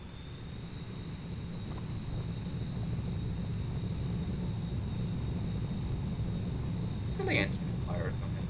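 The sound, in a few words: airplane engine at full throttle for takeoff in a flight simulator video game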